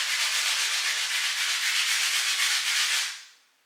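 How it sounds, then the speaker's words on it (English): Steady, hissing abrasive rubbing of sanding in a small powder bathroom runs continuously, close and fairly loud, then stops and fades out. "who's in there sanding the powder bathroom"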